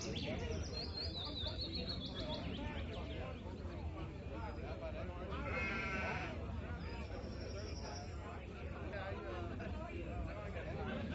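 Sheep bleat in the video game DMB 3, heard in a few raspy calls mixed into a dense game soundscape with chirping birds and steady background noise.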